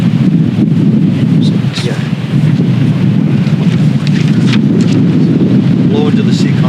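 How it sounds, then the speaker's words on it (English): Strong wind buffets the microphone in heavy low rumbling gusts, loud and continuous outdoors, with scattered faint voices underneath. "Wow, it's really windy."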